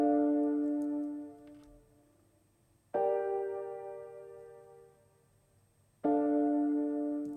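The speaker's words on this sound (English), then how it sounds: "So I brought in like a softer piano to layer and mimic the chords" Soft, gentle piano chords ring out three times in slow succession, each struck cleanly and left to decay into near silence before the next, close and alone in a beat production.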